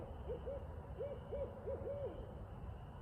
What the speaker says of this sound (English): We got an owl behind us somewhere just making all kinds of noise